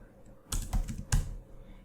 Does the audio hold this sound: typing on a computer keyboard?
yes